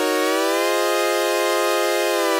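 Serum synth stab chord, a bright, dense sustained tone with automated pitch bend set to plus and minus two, bending upward early then holding steady, loud and alone.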